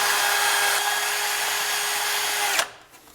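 A power drill bores a 7/32 pilot hole for a bolt while upgrading the throttle linkage on a 1967-72 Ford F100, a steady close whine running for about two and a half seconds before cutting off abruptly.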